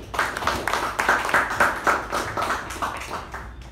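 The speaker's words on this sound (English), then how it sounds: "Please give a big round of applause for Toastmaster Mehjabin." Audience applause at a Toastmasters meeting: a short burst of steady hand clapping from a modest room, close and moderately loud, fading slightly toward the end with no talk over it.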